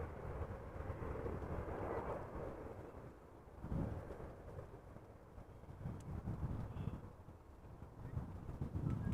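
An airliner rolls out after landing at Amsterdam Schiphol Airport, heard from a distance as a low, faint rumbling roar that swells and fades in waves, with wind buffeting the microphone.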